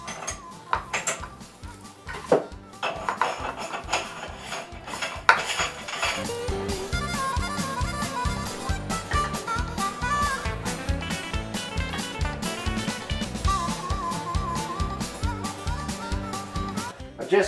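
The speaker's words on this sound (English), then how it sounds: "Just finished grinding the meat" A meat grinder works through wild boar meat, a steady mechanical churning and rattling with metallic clatter running continuously, close and fairly loud with no talking.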